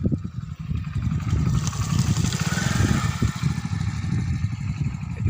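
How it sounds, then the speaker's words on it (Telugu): A motorcycle passes along a rough, pothole-strewn village road near Kolleru lake, its engine a steady close rumble with rattling clatter and no one speaking. "ఇతను వెళ్తున్నాడు బైక్ మీద."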